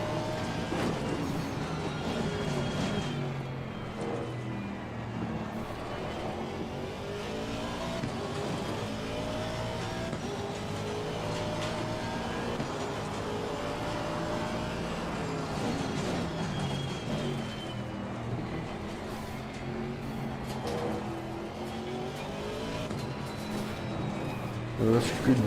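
A V8 Aston Martin race car drones steadily through a bend on cold brakes and tires, its engine note rising and falling as it corners, with a driver talking over the continuous mid-level engine sound.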